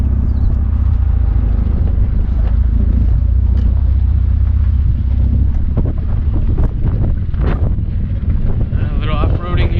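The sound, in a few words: Mitsubishi Eclipse GTS coasting downhill in neutral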